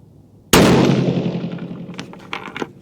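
A single 6mm Creedmoor rifle shot fired with an H4350 powder load, a sharp, loud crack right up close followed by a rolling echo that fades over about two seconds.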